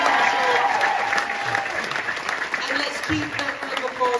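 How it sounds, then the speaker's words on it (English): A theatre audience applauds the director and creative team at the final-show curtain call of Jersey Boys in the West End, with dense, sustained clapping from a large crowd and a voice speaking over it. "A brilliant round of applause for our director, Des McNuff, and his wonderful creative team"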